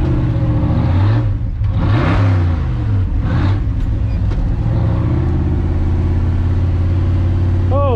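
A Ford F100 truck engine drives a cool-down lap at drag races, loud and close, its note rising and falling through a couple of revving swells before settling into a steady drone.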